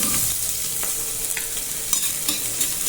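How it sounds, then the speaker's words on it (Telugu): Cloves, cinnamon and chopped onion crackle in hot oil, a steady bright sizzle with scattered pops and light ladle clinks, close by and without speech. "ఇవి వేగిన తర్వాత ఒక ఉల్లిపాయను చాప్ చేసి వేసుకోండి"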